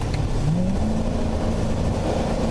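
A 2015 Chevrolet Corvette V8 pulls hard under acceleration, its steady loud engine drone rising in pitch with a whine climbing early on, close and continuous with no voices.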